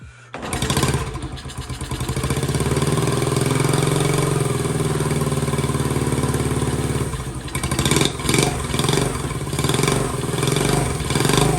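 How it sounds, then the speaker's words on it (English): A rebuilt Honda Trail 70 motorcycle engine is kicked over and fires up, then runs loud and close with a rapid, even putter for several seconds before the revs fluctuate in uneven bursts. "give it its first start and heat cycle"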